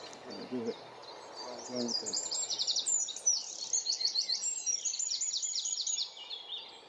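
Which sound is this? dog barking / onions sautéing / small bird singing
small bird singing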